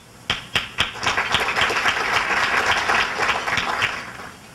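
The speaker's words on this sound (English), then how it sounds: "if you want to hold the applause till the end" An audience at a State of the City event breaks into applause, starting with a few sharp separate claps that quickly build into a full, steady round before fading slightly.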